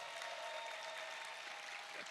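Applause from a congregation at a church youth retreat's early-morning service, a continuous wash of clapping heard at a distance, fairly faint and steady for a couple of seconds.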